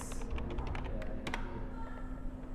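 Quick keystrokes clatter on a computer keyboard in a short burst of close, light taps that thin out into a quiet hum.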